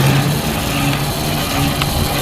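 The engine on a lawn spray tank of 100 or 300 gallons runs at a steady idle, a loud continuous low rumble close by with no talking.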